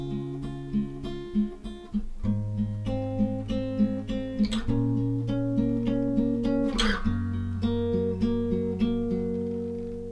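Acoustic guitar plays the picked intro chord progression of a song, a steady fingerpicked pattern with chord changes every couple of seconds, clear and close with no talking.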